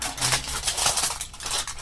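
Continuous crinkling and crackling of kitchen aluminium foil being crumpled close up, irregular and steady throughout.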